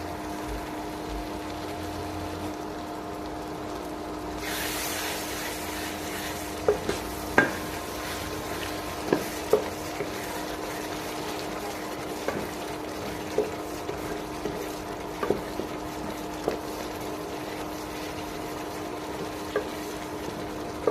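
Prawn head brains frying in a pan, a steady sizzle running throughout with occasional sharp spatters and stirring clicks, no talk.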